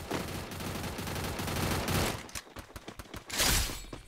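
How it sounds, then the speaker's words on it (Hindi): Rapid shotgun fire in the Garena Free Fire battle royale game: dense bursts of close, loud blasts, then a run of sharp separate shots with brief gaps, ending in another burst. "ओ भाई गजब है ये शॉटगन तो"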